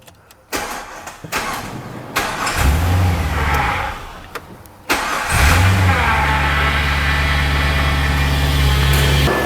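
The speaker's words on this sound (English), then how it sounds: "I'm just going to turn the car over a few times" Holden Commodore with an LS1 5.7L V8 turned over repeatedly: a starter cranks briefly, stops, then cranks again into a steady rumbling idle, close and loud.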